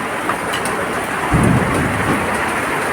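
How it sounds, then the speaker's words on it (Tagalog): Heavy rain pours down steadily in a dense hiss, with a low rumble of thunder rolling in partway through. "Grabe lakas ng ulan."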